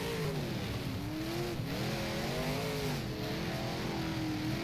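A big block modified race car engine in rFactor at Valvoline Raceway drones continuously up close, its pitch wavering and climbing as the throttle is fed in and eased off, with no talk.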